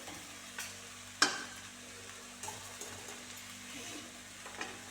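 Rice being stirred into curry in a pan, with faint soft scraping and shuffling, one sharp clink of a utensil against the pan, and a few scattered light taps over quiet background hum.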